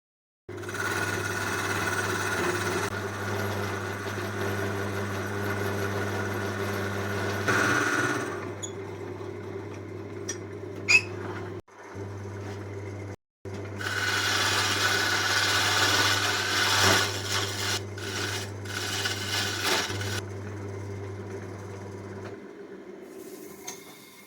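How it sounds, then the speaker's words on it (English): A wood lathe spins with a steady low hum while cutting a mortise in the bottom of a turned wooden milk churn. The tool scrapes in rough bursts over the running motor, and the sound stops briefly twice near the middle. "I'll make a small mortise in the bottom so that I will be able to turn the job around later on"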